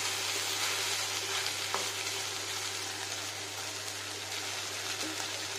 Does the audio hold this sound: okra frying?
yes